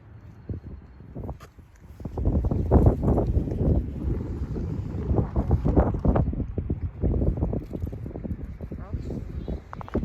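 Strong wind at Hoover Dam buffeting the microphone in loud, rough, continuous gusts, with people talking over it.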